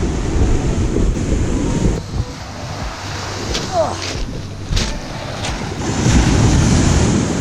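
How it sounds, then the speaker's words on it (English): Waves wash steadily onto the shore at Waterfall Beach on Grand Island, Michigan, heavy and close under gusting wind noise, with one brief groan from a person. "We're here at Waterfall Beach."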